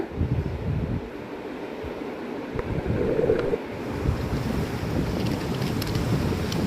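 Sea waves wash onto an Andaman beach, a steady rushing roar of surf mixed with gusting wind buffeting the microphone, continuous and fairly loud with no voices.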